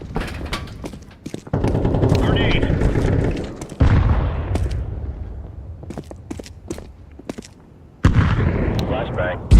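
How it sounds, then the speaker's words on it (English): Grenade blasts and gunfire in a shooter video game, several loud booms with a rumbling tail, mixed with sharp scattered shots and brief clicks, close and intense throughout. "Flashbang."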